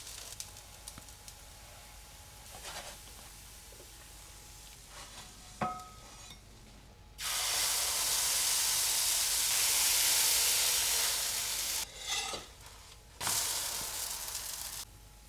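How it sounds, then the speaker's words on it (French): A crêpe cooking in a frying pan after being flipped with a spatula, a steady sizzling hiss that swells loudly for several seconds, broken by brief scrapes and quieter gaps, close up with no talking. "Et donc là, délicatement, avec une spatule, on va retourner la crêpe. Et on va la laisser cuire à nouveau pendant 1 minute,"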